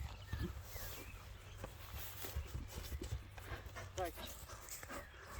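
A horse walks, and its hooves clip-clop in an irregular rhythm of sharp, quiet knocks beneath nearby talking voices.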